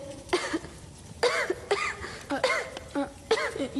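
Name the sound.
cough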